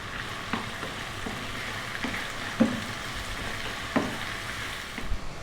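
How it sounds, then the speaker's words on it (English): Onions, garlic and potatoes sizzle and fry in a pan, a steady close crackle with occasional soft stirring clicks throughout. "onions, garlic, potatoes all cooking really nicely now."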